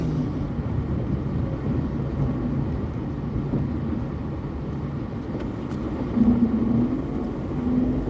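Street traffic along a city boulevard in the Philippines, a continuous low rumble of passing vehicles with a slight swell as one comes closer, no talking.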